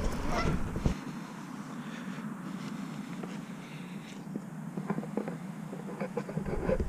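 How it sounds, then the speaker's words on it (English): Canada geese on a road honk repeatedly over a steady outdoor background, the calls moderately near and scattered across the whole stretch. "we got geese"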